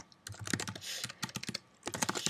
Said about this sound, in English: Then we want to type